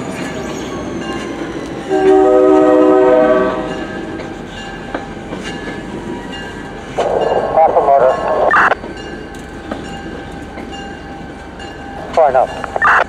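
An NJ Transit train with a GP40PH-2 locomotive passes at Bay Head, a loud rumble with horn-like tonal blasts and squeals, while people talk nearby.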